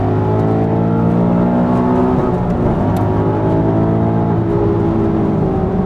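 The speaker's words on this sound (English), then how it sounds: "that's full throttle right there" Car accelerating at full throttle on the Nürburgring, heard from inside the cabin as a loud, sustained engine roar that holds steady throughout with no talk.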